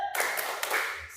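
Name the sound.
schoolchildren doing a spirit clap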